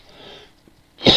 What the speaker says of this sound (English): I'm still suffering from a major cough.